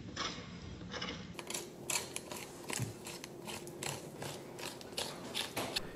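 A spoon scrapes raw salmon meat off the bone along the spine, giving a quick run of close, soft, gritty scrapes and clicks in a quiet kitchen.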